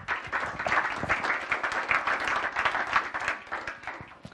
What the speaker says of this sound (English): give a round of applause to Robin Chase